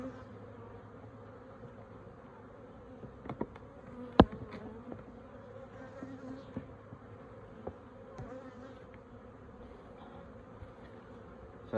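Honey bees from a strong, honey-filled hive drone in a dense, steady buzz at an opened beehive, with a few sharp knocks and clicks of handled frames nearby.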